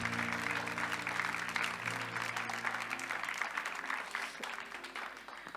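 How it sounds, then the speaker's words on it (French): Audience applause at a church anniversary concert in Valenciennes, brisk scattered clapping over a low sustained musical hum, moderately loud and tapering slightly toward the end. "on peut l'applaudir aussi"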